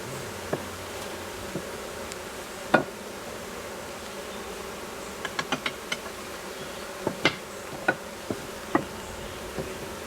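Honeybees buzzing around a top bar hive in a low steady hum, with occasional light clicks and taps nearby; no voices.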